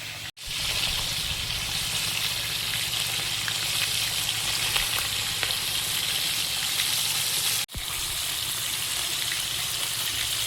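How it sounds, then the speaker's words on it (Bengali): Bhola river fish fry in hot oil with a loud, steady sizzle that runs without a break, dipping briefly twice as if the pan is lifted or the fish are turned. "ভোলা মাছগুলো ভাজা হয়েছে, প্লেটে তুলে নিচ্ছি"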